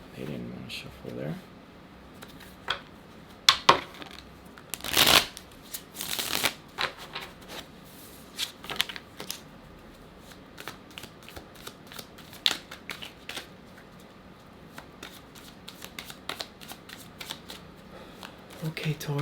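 Tarot cards are shuffled in sharp riffling bursts and scattered taps, one loud flurry standing out, while a person talks intermittently over the handling.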